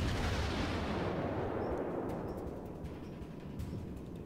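Naval gunfire from the World of Warships video game: one heavy, broad blast at the start, then a rumbling tail that slowly fades over several seconds.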